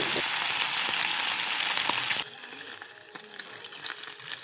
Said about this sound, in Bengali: চলো মাছ ভেজে নেই